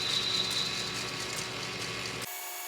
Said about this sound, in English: I don't want to go too deep with my chamfer. I just want to kind of like deburr it.